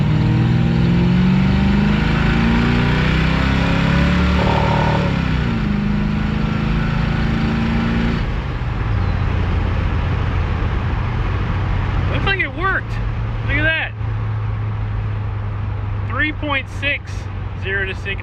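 Stock Chevrolet El Camino accelerating hard from a standstill to 60 with an open air cleaner lid, a loud continuous engine roar rising in pitch through the gears from inside the car, with brief chirps and voices near the end.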